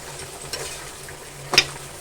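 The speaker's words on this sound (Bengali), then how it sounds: "আলুগুলো ঝিরি ঝিরি করে কেটে একটু চচ্চড়ির মতন বানিয়ে নিচ্ছি" Thinly sliced potatoes for a chorchori-style dish fry quietly in a pan, a faint steady sizzle with a couple of sharp utensil clinks near the end.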